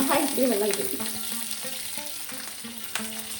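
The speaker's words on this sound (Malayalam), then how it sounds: "ഈ അണ്ടിപ്പരിപ്പും മുന്തിരിങ്ങനെ വറുത്ത് മാറ്റി വെക്കാം" Cashews and raisins fry in ghee with a close, steady sizzle, broken by scraping stirs and a few sharper crackles.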